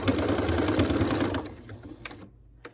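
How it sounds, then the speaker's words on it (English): A sewing machine stitches down a folded triangle of American flag fabric for a yard decoration, whirring steadily and loudly up close for over a second before stopping, followed by a few faint clicks. "I have it just folded like a little triangle here. And I'm just going to stitch it down"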